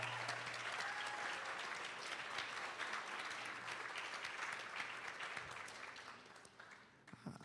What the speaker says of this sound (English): give Mike Flood himself for his service another round of applause